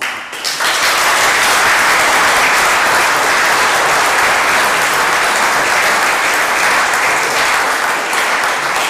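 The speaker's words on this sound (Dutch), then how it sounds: "Ik stel voor dat we Philip bedanken met een hard applaus." After a brief quiet moment, a large audience breaks into loud, sustained applause thanking a lecturer at an Amsterdam event, a thick steady roar of clapping that stays strong to the end.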